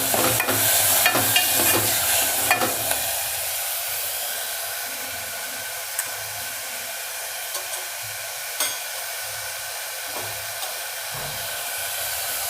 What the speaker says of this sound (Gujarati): પહેલાં તેલમાં ફેરવી લેવાની ભાજી।